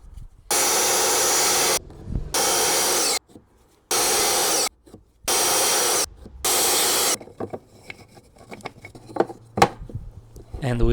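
Wooden planks are sawn in four loud, close bursts of rasping strokes separated by short pauses, followed by quieter knocks and handling of the wood.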